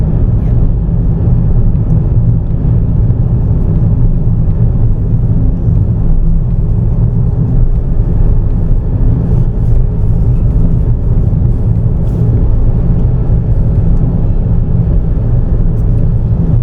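A car's engine hums and rumbles steadily from inside the cabin during a driving lesson, a constant loud low drone with road noise and no distinct revving peaks.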